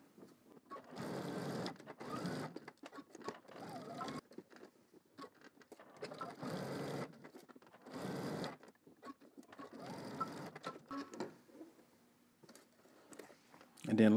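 A home sewing machine runs in several short bursts of rapid, even whirring as it stitches a back pocket facing, with brief pauses between runs. A soft voice speaks in the gaps and near the end.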